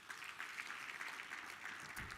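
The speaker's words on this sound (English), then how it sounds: "Give yourself a round of applause," Audience applause at a national awards ceremony, a steady, dense clapping from a large crowd sustained throughout, moderately loud and even, with no voices standing out.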